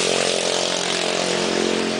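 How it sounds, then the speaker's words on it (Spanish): A motorcycle engine drones steadily and loudly nearby as it passes on a street, a constant buzzing roar with no talking over it. "Vamos a esperar a que pase la moto."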